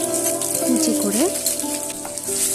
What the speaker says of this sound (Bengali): এখানে কালো জিরে ফোড়ন দিলাম